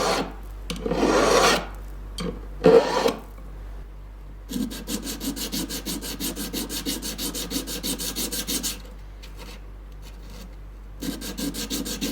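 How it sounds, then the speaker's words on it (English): A metal file rasps against a carved jewelry wax piece in quick repeated strokes, first a few heavier scrapes, then a steady run of fine rhythmic filing, close and clear with no talk. "And I can clean this up with my file."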